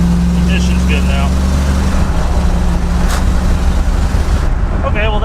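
The engine of a 1970s Lincoln luxury car runs after an ignition fix, a loud, steady, close rumble heard under someone talking.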